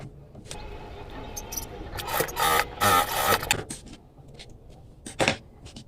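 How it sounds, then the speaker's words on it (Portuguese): Sewing machine stitching a zipper seam on a small cube-shaped cosmetic bag, with short bursts of mechanical whirring and clatter starting and stopping, loudest in the middle, heard up close. "Eu vou posicionar assim e passar a costura."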